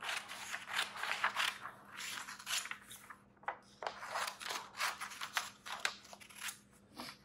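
Scissors snip through a paper printout in a quiet room, a quick irregular series of crisp cuts and crunches close by, with short pauses between strokes and no talking.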